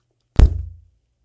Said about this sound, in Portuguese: Eu vou ter que desligar o pedal e para isso eu tiro o cabo aqui do output A